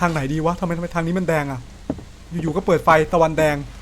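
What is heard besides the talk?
No distinct noise like a dog, phone or traffic.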